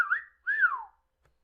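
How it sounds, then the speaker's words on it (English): A person whistles two short melodic phrases, the second rising then sliding downward, clear and close, with a brief pause between them and no talk. "just had to whistle again because I love to whistle"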